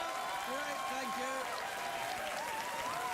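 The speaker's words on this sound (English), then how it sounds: "Please let your applause die away quite naturally." Studio audience at a late-night talk show clapping in a steady wash of applause, with someone talking over it throughout.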